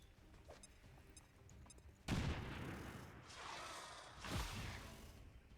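Frag grenade detonating in a turn-based tactical combat game: a sudden loud blast with a rumbling tail, followed by a second heavy boom a couple of seconds later, after a quiet lead-in.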